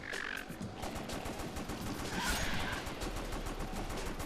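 Dense, continuous gunfire from the rail shooter House of the Dead Overkill, with shots blending into a rapid, moderately quiet clatter.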